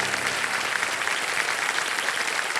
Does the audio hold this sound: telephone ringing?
no